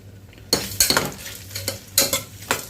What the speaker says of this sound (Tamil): ஆயில் சேர்த்ததும் நல்லா வதக்கிக்கலாம். வெங்காயம் வந்து நல்லா பொன்னிறமாக, நல்ல செவந்து பொன்னிறமாக வர்ற வரைக்கும் நல்லா வதக்கிக்கலாம்